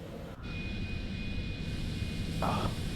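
Citation X business jet taking off in a flight simulator game, steady low engine roar with a faint high whine, fairly quiet and continuous with no speech.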